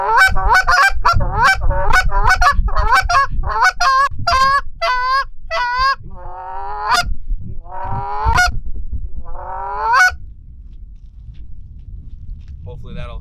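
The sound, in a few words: goose call imitating feeding geese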